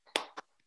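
Two sharp claps close together, the first louder, followed by quiet.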